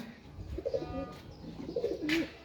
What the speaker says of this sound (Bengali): ছাদে আমার এক ভাতিজা আবার কবুতর পালে